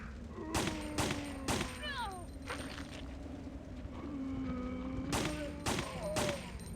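Gunshots in the original Resident Evil 3: Nemesis, fired singly and irregularly at close range, sharp cracks over a steady low game drone with occasional chirping effects between shots.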